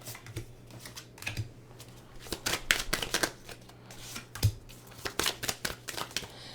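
Tarot cards are shuffled and riffled in quick, crisp bursts of flicking and slapping, close by and fairly quiet, with short pauses between handfuls.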